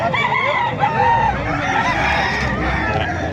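Roosters crow and cluck amid the bustle of a chicken market in Calumpit, Bulacan, with several birds calling over one another nearby in a busy, noisy setting.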